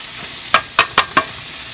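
Onions, green chillies and curry leaves sauté in a pan for a tiffin sambar, with four quick, close spatula scrapes cutting through a soft background sizzle.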